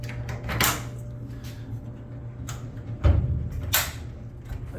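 The door of a 1967 Ford Econoline van shuts with a solid metallic clunk, plus a few lighter latch clicks, heard close against a steady background hum in a workshop.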